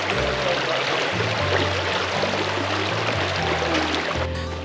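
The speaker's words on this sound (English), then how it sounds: "I hear the sound of rushing water and what sounds like a waterfall." Rushing stream near Cummins Falls waterfall, a loud, continuous broadband wash of flowing water filling the space, steady throughout with a low rumbling undertone.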